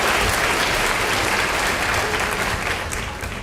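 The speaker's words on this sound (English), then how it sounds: "Let's give him a round of applause, please." An audience at a high school senior awards ceremony gives loud, sustained applause for an award recipient. Dense clapping fills the whole stretch and tapers slightly toward the end.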